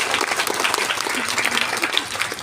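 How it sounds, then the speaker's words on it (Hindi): Audience applause for children at a mothers' gathering, a dense, steady wash of many hands clapping close by, even and sustained throughout with no talk over it. "एक बार ताली बजाइए जो बोले उनके लिए।"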